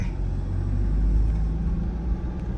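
A lifted Toyota Vigo pickup with a manual gearbox cruises along a road, its engine a steady low rumble with road noise filling the cabin, continuous and fairly loud with no voices.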